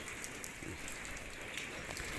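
Steady rain falls at a rural Thai home, a soft continuous hiss of drops on surfaces with no voices, even and moderately quiet throughout.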